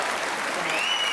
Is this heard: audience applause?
yes